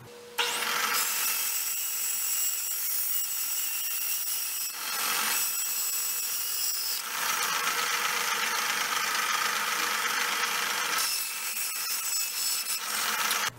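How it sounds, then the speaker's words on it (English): A bandsaw cuts resin and wood blanks in long, loud passes of harsh rasping, with brief breaks between cuts while the machine keeps running. "I'm gonna get these cut up on the bandsaw over there."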